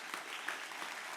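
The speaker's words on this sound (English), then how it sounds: "Can we give a round of applause, please?" Brief applause from a student conference audience, a steady patter of many hands clapping at moderate, somewhat distant level for about a second, with no talk over it.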